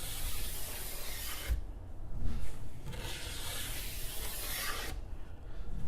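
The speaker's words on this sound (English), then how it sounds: "Now I'm using this brush." A brush scrubs back and forth over a ski base during a waxless glide application, giving steady close rasping strokes broken by a couple of short pauses.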